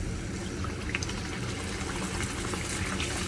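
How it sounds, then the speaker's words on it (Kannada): Jowar poori frying in hot oil: a steady, soft bubbling sizzle that stays even throughout, quiet and close, with no talking. "ಎಣ್ಣೆ ಚೆನ್ನಾಗಿ ಕಾದಿರಬೇಕು, ಆವಾಗ ಉಬ್ಬಿ ಬರುತ್ತೆ"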